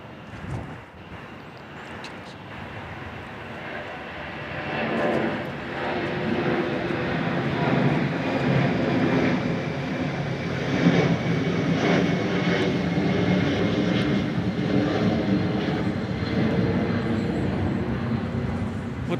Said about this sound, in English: 757 taking off for Atlanta